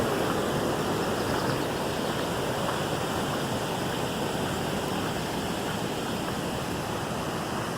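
Stream water flows steadily at Fountain Creek Nature Center, a constant broadband rush that stays even throughout with no voices.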